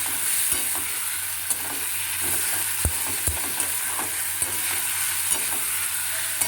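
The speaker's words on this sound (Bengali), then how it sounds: "আলুটা দিয়ে খুব ভালো করে কষিয়ে নেবেন" Potatoes stir-fry with rohu fish for a traditional fish curry, a steady close sizzle of hot oil under intermittent scraping and knocking of a spatula against the pan, with no speech.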